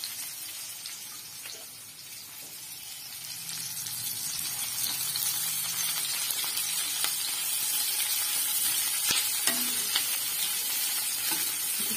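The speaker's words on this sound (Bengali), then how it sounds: "পেঁয়াজগুলো একটু ভালো ভাজা হোক" Onions fry in a pan with crushed ginger and garlic, giving a steady close sizzle and crackle with scattered pops and light stirring, continuous and without talk.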